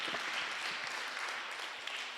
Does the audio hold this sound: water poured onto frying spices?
no